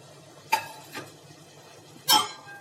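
A spoon stirs green chilies and cauliflower in a pot of vegetable biryani, making three distinct scraping strokes close by with quiet pauses between them and no talking.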